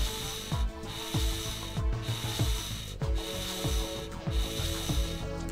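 Rapid ratcheting clicks from screws being backed out of FN P90 parts in a World of Guns disassembly, arriving in short repeated bursts about once a second over a steady mechanical background.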